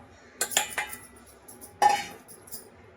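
Metal bowl clinking against a kadhai while two bowls of multigrain flour go in for winter laddoos; a few sharp clanks close by, then a single louder clink after a pause.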